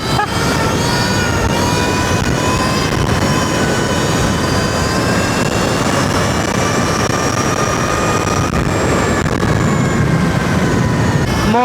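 A modified Sur-Ron Ultra Bee electric dirt bike at speed, around 30 mph, gives a loud, steady motor whine with rising and falling tonal harmonics over continuous wind and road rush, sustained throughout with no talk.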